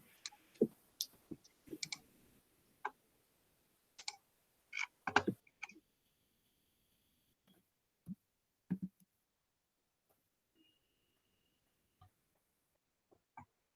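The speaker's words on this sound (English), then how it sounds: "Tongsheng, I think we heard you typing" Computer keyboard typing picked up on an open microphone during an online conference talk, scattered sparse clicks and short key bursts, faint and intermittent against near silence.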